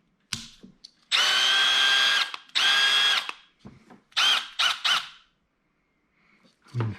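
A Milwaukee M12 4-in-1 drill runs in two short, loud bursts of high whine, then several quicker blips and taps, close and alone with quiet gaps between.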